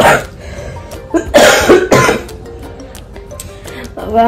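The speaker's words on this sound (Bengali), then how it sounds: "এই কাশিটা না কমছে না কিছুতেই।" A person with a persistent cough coughs in several harsh bursts close by, with a throat-clearing rasp between them, in an otherwise quiet room.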